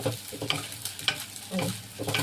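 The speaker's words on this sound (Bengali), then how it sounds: "এইভাবে হালকা একটু ভাজবো, বাদামি কালার হবে" Grated coconut frying lightly in a pan until browned, with a steady close sizzle and a few scraping stirs of the spatula, no voices.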